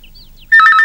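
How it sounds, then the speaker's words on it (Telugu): A telephone bursts into a loud, close electronic trilling ring that starts suddenly after a quiet moment and lasts only an instant. "ఏంటి ఫోన్ రింగ్ అవుతూనే ఉంది?"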